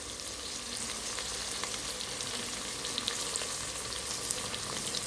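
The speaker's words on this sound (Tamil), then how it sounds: "போட்டு நல்லா இதை வதக்கிக்கோங்க." Green chillies and curry leaves sizzle and crackle in a hot pan, a continuous bright frying hiss scattered with small pops and occasional stirring scrapes.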